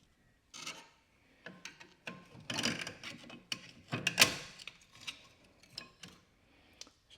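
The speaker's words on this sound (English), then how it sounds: "with our pry bar, we're going to get in here and we're going to pry that out" Metallic scraping and clanking of a pry bar working a brake caliper retainer clip loose on a Ford, a string of irregular close-up clicks and knocks with one sharper snap near the end, no talking.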